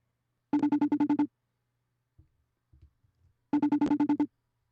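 Telephone ringing in two electronic bursts of rapid trilling pulses, each lasting under a second, separated by a quiet gap with faint clicks and handling noise.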